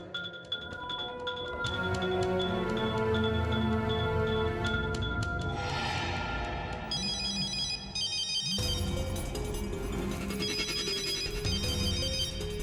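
A telephone rings on and on with no answer, a loud electronic ringtone repeating in steady bursts that change pattern partway through, alone with no talk over it.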